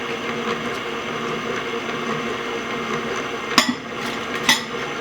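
Electric mixer beating butter pecan pound cake batter in a bowl, a continuous close whirring drone with a couple of brief knocks near the end, no talking.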